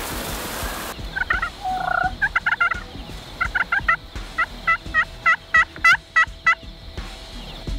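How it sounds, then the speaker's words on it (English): Wild turkey gobblers gobbling near decoys during a hunt, a run of about a dozen loud, rattling bursts in a steady rhythm, close by and with no talk. "Well, the gobblers made their way in, and they were messing around with our decoys"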